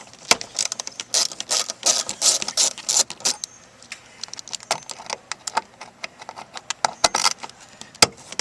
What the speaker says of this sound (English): And we're going to remove the 2 screws.